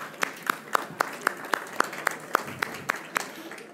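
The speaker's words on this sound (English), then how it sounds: "Give yourself a big round of applause for that" Sparse, evenly paced hand claps from a small audience at a live architecture business event, each clap sharp and distinct in a steady rhythm, moderately near with no talking.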